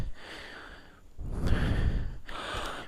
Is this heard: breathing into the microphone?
yes